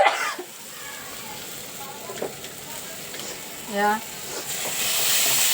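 Green beans being sautéed in a pan give off a soft, steady hiss and sizzle that swells slightly toward the end, while a voice briefly speaks over it.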